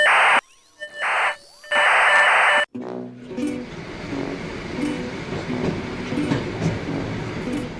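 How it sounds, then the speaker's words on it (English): A train travels across Siberia: after a few loud bursts of other sound at the start, a steady rolling rumble of carriages on track takes over with rhythmic clickety-clack, close and continuous, and no voices. "we switched to another train going even deeper into the middle of nowhere"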